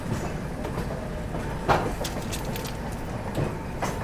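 An express train on a parallel track runs alongside on a train journey toward Lucknow via Unnao, a steady rolling rumble with rhythmic clickety-clack wheel beats and occasional sharper clanks.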